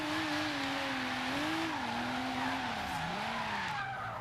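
Tires on a Volvo 850R squeal while sliding in a drift in the racing game Forza Horizon 3, a sustained wavering screech over the steady engine drone.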